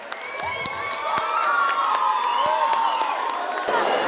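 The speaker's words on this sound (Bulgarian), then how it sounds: "Аплодисменти за него" A crowd of school students at a concert cheers, whoops and claps for the mayor of Cherven Bryag; excited high shouts and sustained cheering with scattered sharp claps, loud and close.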